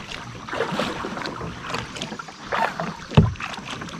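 Kayak paddling on a river, with soft rhythmic paddle strokes and water swishing against the hull, plus one sharper splash or knock near the end, all fairly close and moderate in level.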